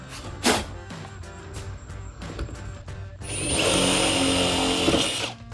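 A power drill with a 3/16 bit boring pilot holes for a rear spoiler on a 2016-2024 Camaro, a short tap near the start, then a steady loud whirring grind for about two seconds at close range.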